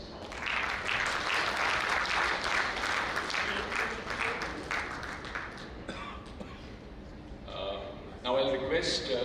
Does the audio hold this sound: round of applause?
yes